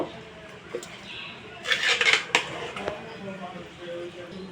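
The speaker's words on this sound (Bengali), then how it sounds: "সবগুলো উপকরণ খুব ভালোভাবে আমি খুরচুনের সাহায্যে মিক্স করে নেব" A spatula mixing spices into beef in a cooking pot for Old Dhaka-style Haji biryani gives soft scrapes and a cluster of metallic clinks and knocks near the middle, with quiet voices in the background.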